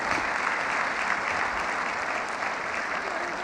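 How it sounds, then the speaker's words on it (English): An audience gives a round of applause, a dense, even wash of many hands clapping at once, moderately loud and sustained for several seconds with no break. "Give her a round of applause."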